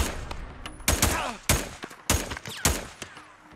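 Sniper and other gunfire in the Days Gone video game at Wizard Lake: four or five loud, sharp shots spaced about half a second apart, each one ringing out over a steady background of game ambience.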